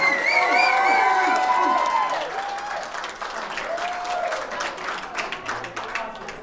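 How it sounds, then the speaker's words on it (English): Wedding guests break into loud applause with cheers and whoops that fade over several seconds, and voices call out through the clapping. "One more big round of applause,"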